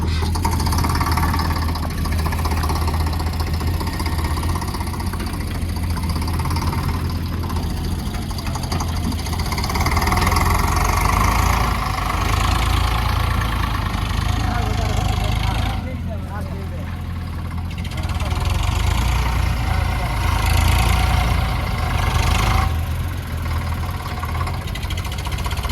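A tractor engine runs steadily while pressing down mud, with a loud low rumble that holds throughout, dipping briefly in the middle, while people talk over it.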